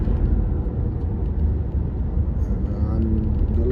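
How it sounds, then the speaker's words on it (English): Car driving slowly along a countryside road in Eastern Serbia, heard as a steady, loud low rumble of engine and road noise that continues without a break throughout. "I'm deliberately not driving too fast in order for you to be able to see and enjoy."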